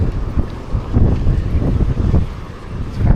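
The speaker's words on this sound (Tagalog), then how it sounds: "napalakas ng hangin" Strong wind buffets the microphone of a bicycle rider outdoors on a dusty road, giving loud, gusty low roaring that swells and fades in uneven waves over a few seconds, with no talk.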